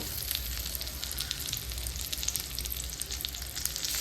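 Banana pieces frying in hot oil in a home kitchen, a steady dense sizzle with crackling pops throughout, close and continuous with no talking.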